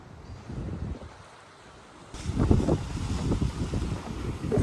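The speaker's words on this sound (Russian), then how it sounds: "Здесь, конечно, ветер сильный." Strong wind buffets the microphone in an outdoor city street beside a damaged apartment block, a steady low roar that grows louder and gustier partway through, with no talk.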